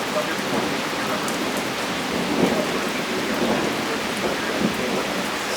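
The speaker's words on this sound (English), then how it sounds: "it's definitely not the closest lightning strike I've ever caught on video" Heavy rain pouring down during a severe-warned squall line storm with gusty winds, a dense steady hiss with low rumbles of thunder rolling beneath, constant and loud throughout.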